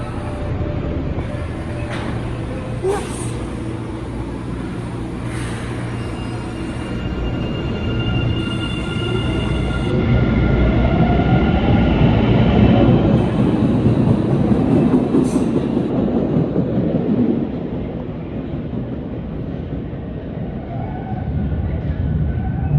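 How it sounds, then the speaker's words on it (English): A Boston subway train departs State station, its motor and wheels building into a loud, steady rumble with clattering rail noise and a rising whine, then easing as it pulls away from the platform. "Watch the train leave."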